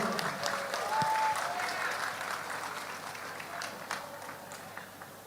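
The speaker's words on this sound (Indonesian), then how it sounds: "Kita sambut dengan tepuk tangan yang meriah Bapak Ibu." Audience applause fills an opening ceremony for a provincial sports week, a broad steady wash of clapping from a large crowd that stays loud for the whole stretch, with faint voices and a brief tone mixed in.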